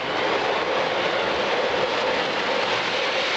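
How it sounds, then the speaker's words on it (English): A wind-up toy train runs on its track, giving a steady, dense whirring rattle of clockwork and wheels at an even level throughout, with no voices. "That's a wind-up train, as opposed to an electric."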